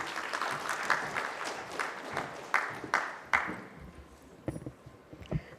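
Conference audience at an inauguration event applauds to welcome a speaker, steady clapping from a crowd that thins and tapers off into scattered claps toward the end.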